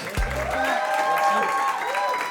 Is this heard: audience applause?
yes